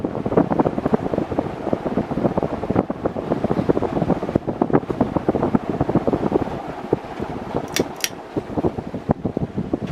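A Fasco Boca Raton 52-inch ceiling fan runs on its fast setting, giving a steady rushing, fluttering whoosh of moving air with a rhythmic pulse from the blades, close and fairly loud throughout.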